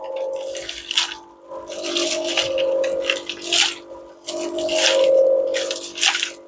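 Wet cement mixture churning in a turning mixer, tumbling round and slopping down in repeated heavy wet squelches that swell and fall every couple of seconds, close and fairly loud with no talk.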